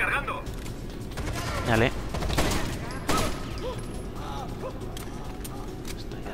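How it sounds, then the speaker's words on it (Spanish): Gunfire in the video game Rainbow Six Vegas, bursts of shots mixed with mechanical clatter and game effects, with someone speaking briefly over the action. "¡Ojo con los disparos!"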